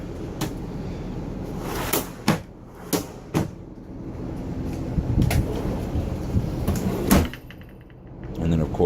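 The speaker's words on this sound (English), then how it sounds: "You can still pull the drawers all the way out." Kitchen cabinet drawers in a 2008 Volkswagen Phaeton sliding out and thudding shut, a series of sharp wooden knocks and rumbling slides spread through the stretch, close and fairly loud, with a person talking nearby.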